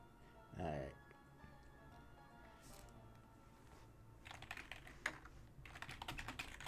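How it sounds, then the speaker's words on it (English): Typing on a computer keyboard during an online Yu-Gi-Oh! duel, with quiet bursts of rapid close key clicks in the latter half after a brief vocal sound. "I keep typing wrong."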